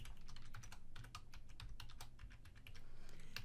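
Rapid typing on a computer keyboard, a quick run of close, crisp key clicks with short pauses and no voices.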